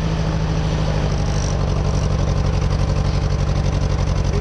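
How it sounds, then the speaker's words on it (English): Tractor engine labouring under load while plowing a field, a loud steady low rhythmic chug throbbing evenly throughout with no talking. "You can hear the strain of the tractor when it's getting kind of hard."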